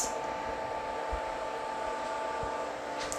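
An Arctic Air Pure Chill evaporative air cooler fan running on low: a steady, low whooshing hum with a constant airy hiss, running evenly throughout with a faint tonal whine underneath.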